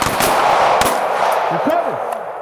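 Handgun shots fired during a close retention shooting drill in Nashville, Tennessee: a few sharp, loud reports at close range in quick succession, with a voice briefly speaking around them.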